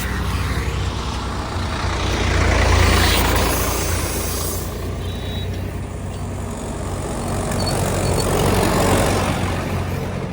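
A diesel tractor engine runs steadily while being refuelled with diesel, a loud, continuous low rumble that swells and eases slightly, with no talking.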